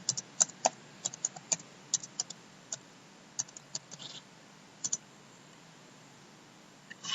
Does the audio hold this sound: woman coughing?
no